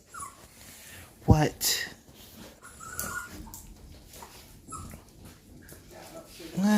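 A mother dog and her puppies whimper and yip in soft, brief bursts, close by, while people talk quietly over them.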